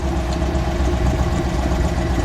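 A 1969 Dodge Daytona with a 426 Hemi V8 idles close by, giving a loud, steady, rough low rumble with no pauses or voices.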